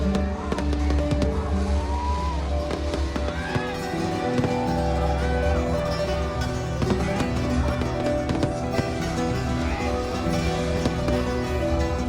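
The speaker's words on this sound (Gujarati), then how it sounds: "ખૂબ જ વધારે સંખ્યાની અંદર ફટાકડા ફોડવામાં આવે છે" Firecrackers bursting at a Hanuman Jayanti festival in Sarangpur, a dense, continuous crackling roar with scattered sharper pops over a loud crowd din, heard close and steady throughout.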